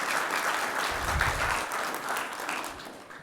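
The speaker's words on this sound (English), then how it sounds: "A round of applause, everyone." A cybersecurity conference audience gives a short round of applause after a talk ends. The clapping is steady and fairly dense throughout.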